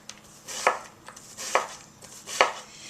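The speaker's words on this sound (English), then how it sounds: "If you want to have a bit smaller diced, you have the option of cutting through the center and then slicing along again." Knife chopping an onion on a board for finer dice: three crisp, evenly spaced chops, each a sharp close thud-click with short gaps of quiet between.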